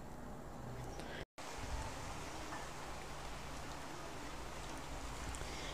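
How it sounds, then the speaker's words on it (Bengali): Sliced potato fries in oil in a pan for a Bengali fish curry, the sizzling a faint, continuous crackle that is briefly cut by a moment of silence and then carries on steadily. "আলুটা দিয়ে কিছুক্ষণ একটু নেড়ে চেড়ে ভেজে নেব।"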